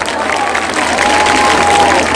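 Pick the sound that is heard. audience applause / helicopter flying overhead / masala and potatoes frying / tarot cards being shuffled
audience applause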